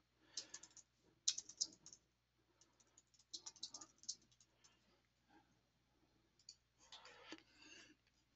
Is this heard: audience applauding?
no